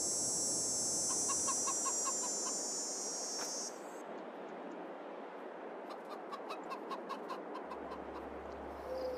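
Chickens cluck in a modded chicken coop within a farming video game, soft repeated clucks and short calls sounding near, over a steady hiss of game ambience that shifts partway through.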